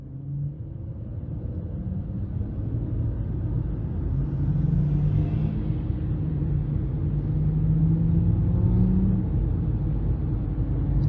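A 2023 Ford Maverick Hybrid with a 2.5-litre four-cylinder, driven in eco mode, pulls under hard throttle with a steady low engine drone and road rumble that swells gradually, heard from inside the cabin with no talk.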